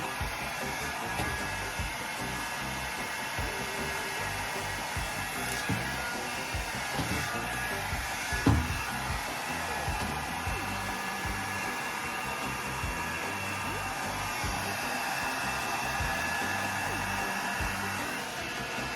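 A handheld hair dryer blows on hair with a constant airy whoosh and motor whine, moderately loud and steady for the whole stretch, with faint handling bumps and no talking.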